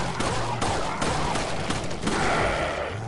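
Rapid shotgun blasts in Resident Evil 4, a dense, loud volley of sharp repeated shots packed closely together over a noisy game backdrop, with no talking.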